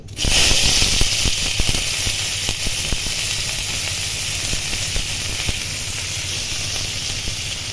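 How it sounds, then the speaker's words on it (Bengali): Onions tossed into hot oil in a wok, a sudden loud hiss that settles into a steady, close sizzle with faint crackles throughout. "ওই কড়াইয়ে আমি আবার তেল দিয়ে পেঁয়াজ দিয়ে দিচ্ছি"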